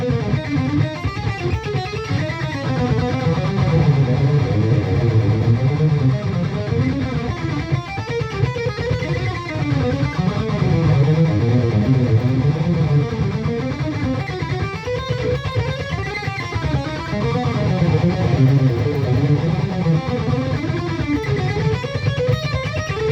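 Cold-handed electric guitar warm-up exercise played with straight alternate picking, a steady stream of even picked notes running continuously at moderate volume with no talking.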